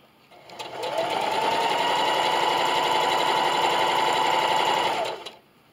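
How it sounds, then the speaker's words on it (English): A sewing machine stitches steadily around the edge of a fabric Valentine's envelope, one loud continuous run of rapid whirring needle strokes that starts and stops cleanly, with no talking. "now I'm just going to continue to sew all the way around till I get back to the end."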